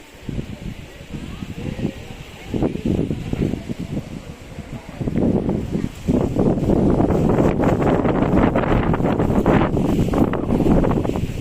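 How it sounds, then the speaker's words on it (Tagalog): Strong gusty wind buffets the microphone in heavy, roaring bursts that build and become constant, with leaves rustling underneath. "malakas yung hangin"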